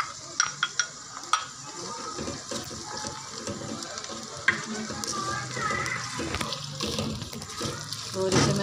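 Chopped onion, garlic and ginger fry in a pan with a continuous close sizzle, along with a few stirring clinks early on and some watery bubbling later.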